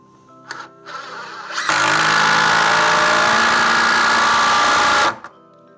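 Impact driver or drill sinking a screw at an angle down through a corner into a wooden stud: a couple of short starting bursts, then a loud, steady, close whine of about three seconds that stops abruptly.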